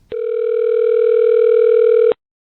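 A single steady telephone tone plays loud and close for about two seconds, then cuts off sharply, sounding like an incoming call signal on a phone line.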